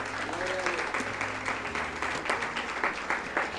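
A church congregation claps together during a Spanish-language sermon, with dense, rhythmic applause that holds steady throughout and is mixed with a few voices calling out.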